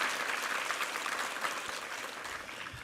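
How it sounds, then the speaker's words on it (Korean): Applause from a church congregation at a Sunday worship service, a steady wash of clapping that holds for the whole stretch at moderate loudness with no voices over it. "함께 한번 격려 박수 한번 부탁합니다"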